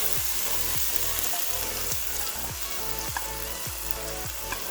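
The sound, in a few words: sauce added to sizzling stir-fry spicy eggplant in wok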